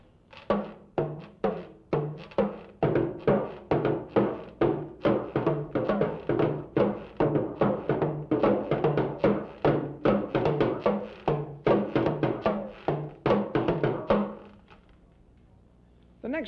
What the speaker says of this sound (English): Now let's listen to both drums put together.